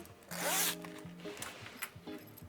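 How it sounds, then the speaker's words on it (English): A zipper is pulled apart in one quick, loud rasping stroke while being separated for sewing, followed by softer fabric rustling and handling. "we can go ahead and separate the zipper"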